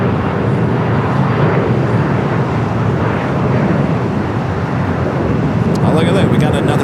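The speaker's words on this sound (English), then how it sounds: "Aircraft coming in from Phoenix, Arizona, Delta connection, SkyWest, flight" A SkyWest Delta Connection airliner arriving at LAX from Phoenix gives a steady, loud broadband jet roar that fills the whole stretch without a break, with a brief added rattle near the end.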